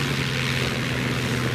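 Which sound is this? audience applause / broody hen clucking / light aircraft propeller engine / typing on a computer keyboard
light aircraft propeller engine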